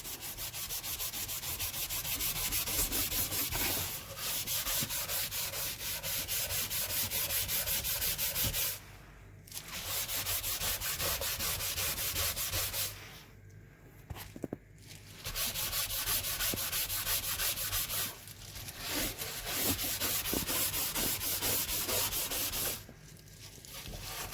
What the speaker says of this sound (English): I will rub it.